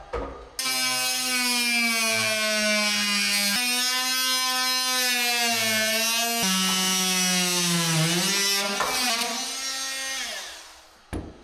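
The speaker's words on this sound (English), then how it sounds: "we're just going to use the renovator to drop the blade right down nice and square against the framing, against the timber flooring" A renovator multi-tool with its blade cutting into timber flooring, a loud continuous high buzzing drone with shifting pitch as the blade bites, briefly interrupted twice, running alone for about ten seconds.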